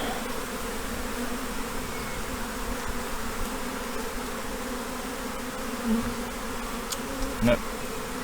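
Honeybees buzz in a steady, dense drone throughout a hive inspection while a swarm is transferred to its new home, with a couple of brief knocks near the end and no talk.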